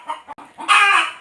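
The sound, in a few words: hen clucking loudly after leaving its eggs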